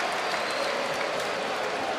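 An arena crowd applauds and cheers a winning fighter after a TKO at a UFC Fight Night, the clapping steady, dense and loud throughout.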